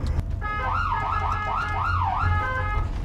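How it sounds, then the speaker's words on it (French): Three-tone siren of a French highway patrol vehicle wailing steadily and close, its repeating rising-and-falling cycle sounding over a low engine rumble, with no voices. "Et la sirène, c'est ce qu'on appelle le 3 tons."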